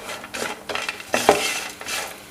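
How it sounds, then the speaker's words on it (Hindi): Nuts and cut coconut roast in a pan over a low flame while being stirred, giving quiet scraping strokes and soft rattles with a light sizzle underneath, close by. "थोड़ी हल्की आंच पे इनको आपने रोस्ट करना है, सारे नट्स को।"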